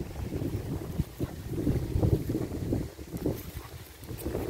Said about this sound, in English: Look at the waves getting there.